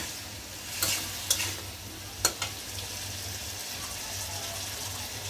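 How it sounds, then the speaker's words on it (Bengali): Shrimp and water lily stems sauté in a pan with a low, steady sizzle, marked by a few sharp scrapes and clinks of stirring, fairly quiet and without voices. "এখন একটু কষায় নেব, তারপরে ঝোল দিয়ে দেবো"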